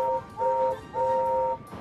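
Steam whistle of a large express tender engine with four leading wheels and six big driving wheels, sounding three sustained two-tone chime blasts, a short one then two longer, loud and clear with no talk.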